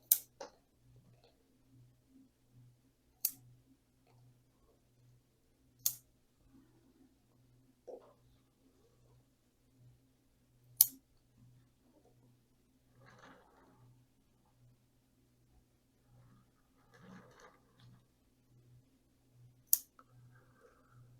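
Pruning shears snip a small raft-style Portulacaria afra penjing bonsai in sparse, crisp clicks several seconds apart, with faint rustling between cuts over a low steady background hum.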